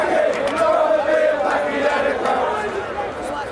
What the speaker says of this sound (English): the atmosphere degenerated, with racist chanting from a section of the crowd